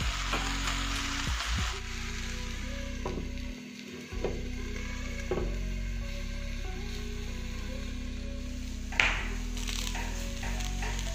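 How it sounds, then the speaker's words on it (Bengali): Chicken frying in a covered pan, a steady soft sizzle with a low hum, interrupted by clattering lid and pan handling and a brief drop-out, then continuing evenly. "আমরা আদার সাইডটাও ভালোভাবে ফ্রাই করে নিলাম। এরপর আমি এটাকে ঢাকা দিয়ে আরও 2 মিনিট প্রতিটা সাইড কুক করে নেব।"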